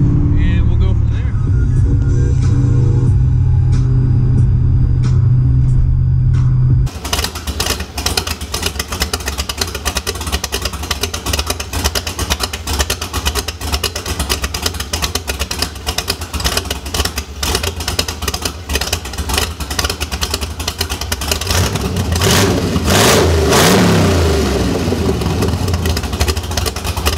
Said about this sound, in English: So I'm sure you guys want to know how I got the car to rev.